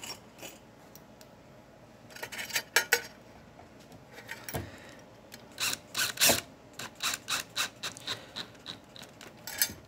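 Metallic ratcheting and scraping clicks from tightening the motor stops on a K9 II dryer, coming in short irregular bursts and clusters, close and fairly loud with quiet gaps between.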